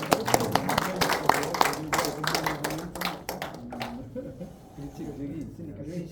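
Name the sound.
audience applause at a literary seminar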